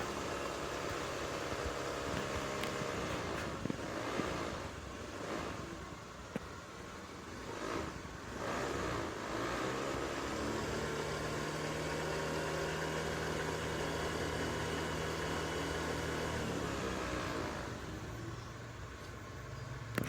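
Honda Beat ESP scooter with a white-smoke fault idling steadily on test, a continuous low engine drone with vibration throughout, no voices.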